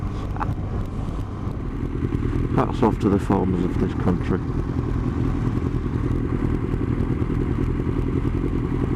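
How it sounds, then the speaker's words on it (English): A motorcycle fitted with a Beowulf aftermarket exhaust rumbles steadily throughout, while someone talks over it and some clattering comes through. "I think he's got a Beowulf exhaust on it, an end cam, which sounds absolutely glorious."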